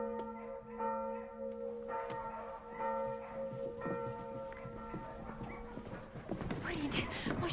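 A church bell being rung, its tolling strokes repeating steadily at mid distance, with clip-clop or knocking sounds and a burst of noise toward the end.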